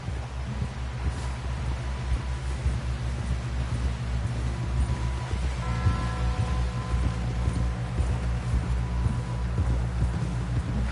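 Horse hooves galloping in Red Dead Redemption 2, a steady rhythmic clip-clop under a low humming game soundscape, with a tonal musical swell rising partway through.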